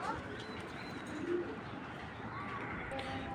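A single pigeon coos softly and close by, with low steady background noise; the bird is a raced pigeon with its leg tag cut off, kept for sale among fancy breeds.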